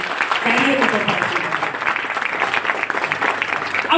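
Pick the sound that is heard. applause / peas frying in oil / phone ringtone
applause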